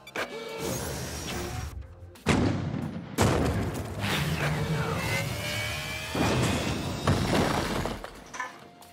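A spaceship crash landing in the video game Star Renegades: loud shattering, grinding impacts and metallic crunches arrive in several heavy bursts over a rumbling roar, with no talk.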